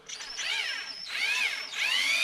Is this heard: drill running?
yes